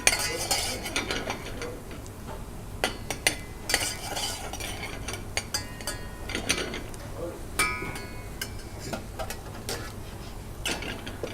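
Onions stirred in a pan on a cooking show, a spoon scraping and clinking against the metal in irregular strokes over a soft background sizzle, with occasional talk.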